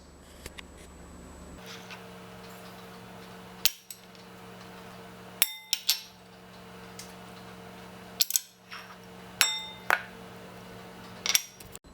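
A whisk or spoon works through pie batter of egg, sugar, flour, salt, vanilla and sour cream in a bowl, faint soft stirring broken by several sharp metallic clinks against the bowl's rim, close and quiet.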